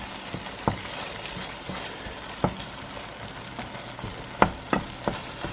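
Mashed potatoes made from potato chips fry in a pan on an electric stove, a steady close sizzle broken by occasional scraping knocks of a utensil stirring them.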